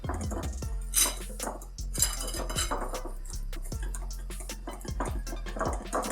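Chocolate cupcake batter is mixed gently in a bowl, a utensil tapping and scraping against the side in a loose, repeated rhythm with soft wet squelches, up close and without talk.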